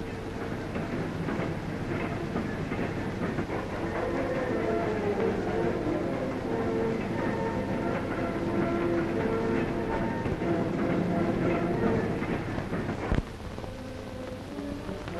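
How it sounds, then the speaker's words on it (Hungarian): A 1952 steam locomotive rolls back along the rails toward its home engine shed, a steady rumbling clatter with rhythmic clicks running throughout, fairly loud and close, with a sharp knock near the end. "Útról honos fűtőházába visszatérő gőzmozdony"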